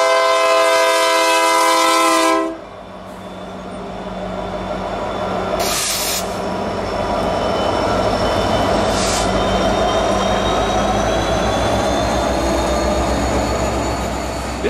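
A Norfolk Southern mixed freight led by secondhand ex-UP diesel locomotives passes close by, opening with a loud air-horn blast, then a sustained rumble of engines and rolling wagons with wheel squeal and clanks.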